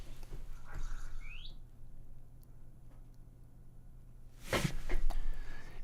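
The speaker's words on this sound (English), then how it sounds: "Did you make that noise, Parrot?" A parrot gives a single short, rising chirp that sounds faint over a steady background hum, and a louder thump follows a few seconds later.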